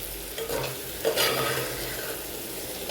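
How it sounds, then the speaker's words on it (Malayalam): Ground kanthari chillies and shallots sizzle in a pan as a spoon stirs them, a few scraping strokes over a low, steady frying hiss, close and brief. "കാന്താരിയും ചെറിയുള്ളി എല്ലാം കൂടി ഒന്ന് ഇളക്കി കൊടുക്കാം"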